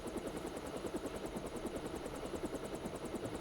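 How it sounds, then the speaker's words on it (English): A helicopter in the video game Deus Ex thrums with a steady, fast rotor chop, loud and continuous with no voices over it. "Locked on the chopper and had the nav computer fly straight in."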